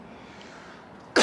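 A single sharp cough from a traveler walking through Hollywood bursts out loud at the end, after a stretch of quiet street noise.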